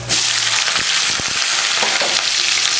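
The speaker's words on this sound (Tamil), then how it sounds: "வெங்காயம் நல்லா ப்ரௌனாக வதங்கியிருக்கு" Onions sizzle and fry in hot oil with fenugreek seeds, a dense loud hiss with a few clinks of a stirring spoon, heard up close and alone.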